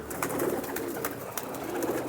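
Domestic pigeons kept by a longtime pigeon fancier in old Jammu city, cooing softly and steadily at close range amid some background rustle, with no talking.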